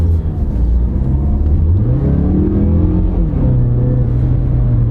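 A car with a 6-speed automatic transmission accelerates with a loud, close engine drone that climbs in pitch, drops at a crisp gear shift, then pulls again in a continuous rumble.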